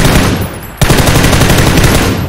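Rapid automatic gunfire in PUBG with an M24 sniper rifle in play, a sharp burst kicking in under a second in and continuing as dense, loud, close-range fire to the end after a quieter noisy lead-in.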